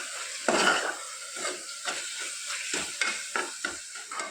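Mint paste cooking down in a pan for mint rice, giving a soft hiss broken by repeated scraping stirs of a spoon against the pan at close range.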